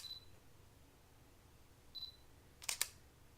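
A mirrorless camera gives a short double shutter click when a photo is taken, quiet and close, heard alone after a faint electronic beep.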